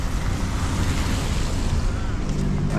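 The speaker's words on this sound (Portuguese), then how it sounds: "agora começou a chover pra caramba" Heavy rain pouring in old Recife, a loud, dense, steady roar of water and wind buffeting close to the microphone with no break.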